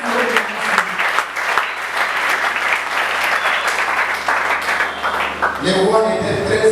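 A church congregation at a Sunday service applauds and cheers the Lord, sustained loud clapping from a full room lasting several seconds before it tapers off.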